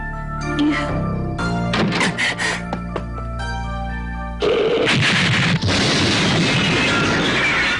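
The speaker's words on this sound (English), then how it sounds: "Explosions! The favorite weapon of Ryo Hayabusa." Anime-style music breaks off into a loud blast, followed by a dense roaring rumble of explosions with sharp bursts.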